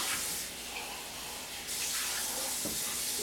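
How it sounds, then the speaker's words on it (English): Sausage gravy comes back to a simmer in a pan, with a soft, continuous bubbling hiss and a few brief louder pops and spurts. "You'll see this is coming back to a simmer."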